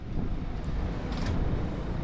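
Icy winter wind in Amsterdam buffets the microphone, a steady low rumbling roar with faint swells, heard alone without talk.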